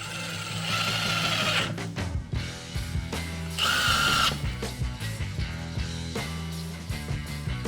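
A power drill whines in short bursts while a doorknob is being replaced, loud and close, with rising and falling motor pitch between pauses and a background music bed running underneath.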